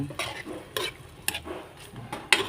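A spoon stirs chicken curry with coconut milk in a pot, soft scraping strokes repeating in irregular bursts over a gentle simmer, close and fairly quiet.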